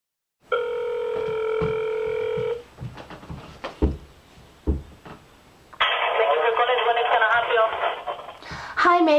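A telephone rings through a handset during a prank call, a steady warbling ring tone starting the clip, then pauses with clicks and short sounds before a loud buzzing tone takes over near the end.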